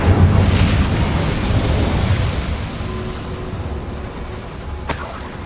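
An Incendio fire spell cast in Hogwarts Legacy bursts with a loud, deep whooshing boom that rolls out and slowly fades, ending with a sharp brief crack near the close.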